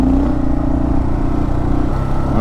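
A Kawasaki KLR650 motorcycle's rear wheel spins on gravel, its single-cylinder engine holding a loud, steady, rumbling drone close by for the whole stretch, with no talking.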